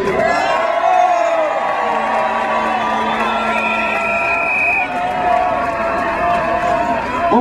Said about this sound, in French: je vous demande une nouvelle fois de les applaudir et de les remercier.